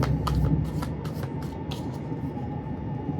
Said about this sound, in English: I'm going to mix the 2 decks, shuffle one then the other.